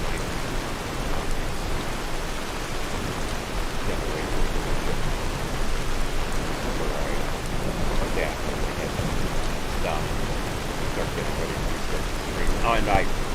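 Steady rain in the video game Skyrim, a dense even hiss at a dark, rainy scene that runs without a break, with faint scattered tones over it and no talk.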